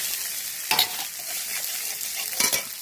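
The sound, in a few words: frying broad beans and onion in oil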